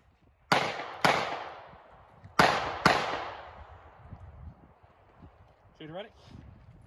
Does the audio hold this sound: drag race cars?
no